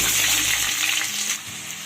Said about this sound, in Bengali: গ্যাসে কড়াই বসিয়ে পরিমাণ মতো সর্ষের তেল দিয়ে দিয়েছি আর এখন আমি কেটে রাখা আলুগুলো ভেজে নেব